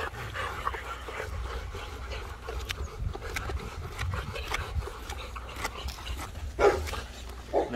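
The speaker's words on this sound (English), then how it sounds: "I can just watch these dogs eat this all day long" Several dogs eat close by, with steady panting, wet chewing and snuffling, broken by sharp clicks and an occasional soft whimper, and no talking.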